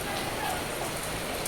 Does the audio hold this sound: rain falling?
yes